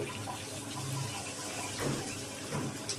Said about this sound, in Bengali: ওই যে মশলা সিদ্ধ করে রেখেছিলাম যে জলটা ওই জলটা একটু দিয়ে দেবো